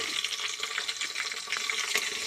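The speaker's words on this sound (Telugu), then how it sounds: "వేడైన తర్వాత మసాలా దినుసులు, జీలకర్ర వేసుకొని కసూరి మెంతి, బిర్యానీ ఆకు వేసుకోవాలి." Whole spices, cumin seeds, kasuri methi and bay leaf frying in hot ghee for chicken pulao, a busy bright crackling sizzle with light stirring, close and continuous.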